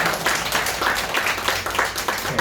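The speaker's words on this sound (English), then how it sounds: "Everybody give her a round of applause." Audience at a book launch for Zaynab Khan's novel claps steadily, a dense, even round of applause from a roomful of people with no voices standing out.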